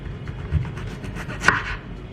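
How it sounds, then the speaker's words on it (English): A knife slices through potatoes on a kitchen surface, cutting them in half, with a few soft scraping strokes and one sharper cut near the middle, close and fairly quiet, with no talking. "Got our potatoes. I'm just going to cut them in half now."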